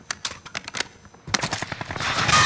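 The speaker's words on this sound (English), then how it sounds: "they're shooting from across the way" Rapid automatic gunfire in Call of Duty: Modern Warfare Resurgence, close bursts of shots in quick succession followed by a louder, denser barrage of fire from across the map.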